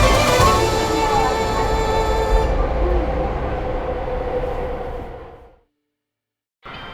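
A train in Japan rumbles along its tracks, loud and steady and close by, then fades suddenly into silence before the running noise briefly returns.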